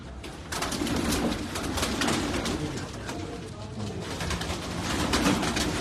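Pigeons coo softly on a rooftop amid steady rustling and flapping noise, with a busy, crowded flock feel and no clear talking.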